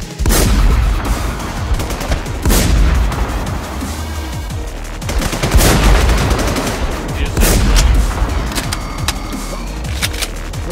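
Loud, heavy gunfire and explosive booms from a grenade launcher in an intense video game firefight, repeated close blasts and volleys filling the whole stretch with little pause.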